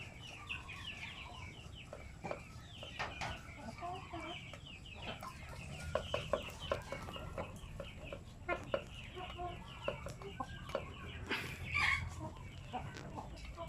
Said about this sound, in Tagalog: Pero pag ganitong manok yung alaga mo, yung mga malalaking manok